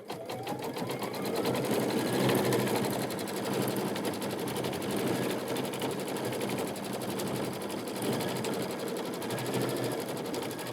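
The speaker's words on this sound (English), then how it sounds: "start the machine. And it's going to tack the applique fabric in place" An embroidery sewing machine stitches a tacking line to hold appliqué fabric in a quilting hoop, a steady, fast, loud mechanical needle rhythm running unbroken throughout with no talk.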